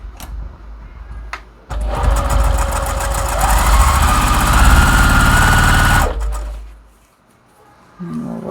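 A sewing machine stitches quilt pieces together in a steady, loud mechanical whir lasting several seconds, after a few faint handling clicks and before the motor winds down to quiet.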